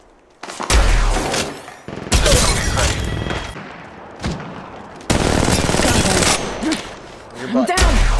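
Rapid bursts of close, loud gunfire in the Apex Legends Mobile game, several sustained volleys separated by short gaps, with in-game voice callouts mixed in.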